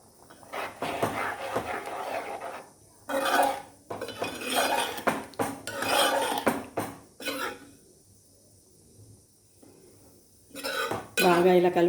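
A spoon stirs egg curry with tamarind in a metal pot, giving bursts of scraping and clinking against the pan separated by brief pauses, close and fairly loud, with a cough or throat clearing in between.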